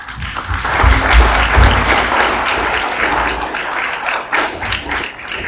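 Applause rings out from an audience at a solid-waste forum session, many hands clapping in a dense, steady wash that starts strong and eases slightly near the end, with some low thumps early on.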